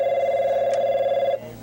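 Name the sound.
telephone ringing at a customer support line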